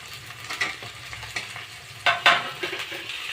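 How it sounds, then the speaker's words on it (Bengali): Pumpkin greens stems fry with shrimp, green chilli and onion, a steady close sizzle with scraping stirs and a couple of louder spatula strokes toward the end, no voices. "এখন ডাটা চিংড়ি মাছ কাঁচামরিচ পেঁয়াজ দিয়ে সুন্দরভাবে নাড়াচাড়া করবো"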